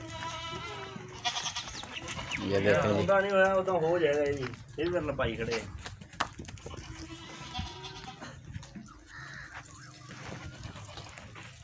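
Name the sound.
goat bleating while being caught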